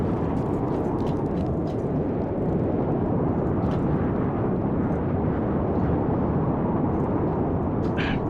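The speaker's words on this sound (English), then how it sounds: "I think the storm came back." A storm rumbles in the Mad Max video game, a dense, steady roar of wind and low thunder that stays loud and unbroken throughout.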